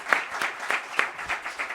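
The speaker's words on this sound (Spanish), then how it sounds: "Entonces le recibimos con un aplauso" A university lecture audience applauds to welcome the speaker, with distinct, fairly sparse claps pulsing in a loose rhythm at moderate volume throughout.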